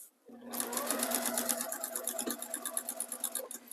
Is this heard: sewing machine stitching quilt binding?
yes